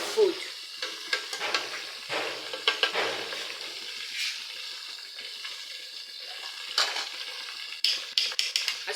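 Onions sizzle and crackle in a pan with curry powder for Nigerian chicken stew while a utensil stirs and scrapes intermittently, close and moderately quiet, with no talking.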